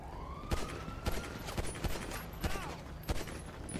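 Gunshots in a GTA roleplay video game: a series of sharp, loud cracks fired at irregular intervals, with a rising siren-like whine in the background.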